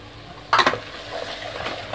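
Ground paste of three tomatoes is added to onions, ginger and garlic sautéing in a pan for a Chettinad chicken masala, giving a short wet splash and sizzle burst, then a steady softer frying hiss with light stirring.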